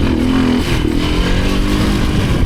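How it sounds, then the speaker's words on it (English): Dirt bike engine revving hard and steadily during a wheelie over a puddle on a mountain trail among pines, loud and close with a rough, continuous roar and some clatter. "That's the key right there, wheelie over the puddle."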